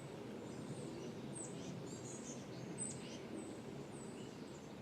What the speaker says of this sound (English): Hope you can hear the birds in the background.